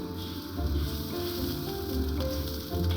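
Crab eggs simmer with pieces of pomelo skin in a pan, giving off a steady, close sizzle with soft bubbling throughout and no voices.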